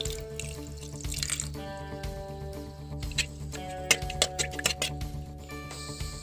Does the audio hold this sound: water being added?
yes